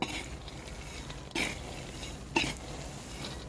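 Crisp roasted peanuts rattle and scrape in a pan as they are stirred, a low, steady dry shuffling broken by two brief louder clattering bursts.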